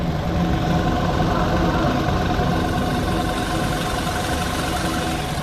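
A Volkswagen Vento petrol engine idles steadily just after starting, following an overhaul, a continuous low hum with fine vibration, heard from outside the car at close range with no talking.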